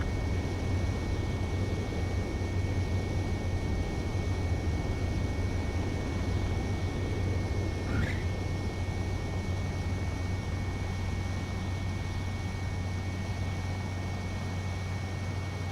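A fighter jet drones steadily on its landing approach to a runway in Ace Combat 7, a constant broadband engine roar with a faint high whine and a low hum underneath, unbroken and without talking.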